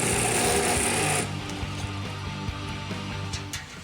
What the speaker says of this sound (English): our Date cold saw can function like a miter saw and cut at an angle.